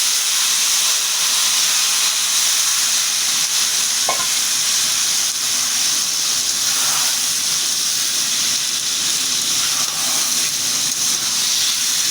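Chicken pieces sizzle steadily in a pan of oil with onions fried until reddish-brown, a loud, continuous hiss filling the whole stretch with a few faint scrapes of stirring and no voices.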